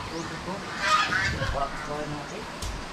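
Farm geese honk in bursts over a busy outdoor yard, with people chatting nearby as the flock is fed; calls rise and fall across the moment rather than standing alone.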